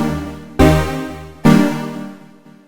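Serum synthesizer patch with ping-pong delay bouncing between left and right channels: two loud, bright sustained synth notes with rich harmonics, each struck then decaying, with a faint echo repeat at the end.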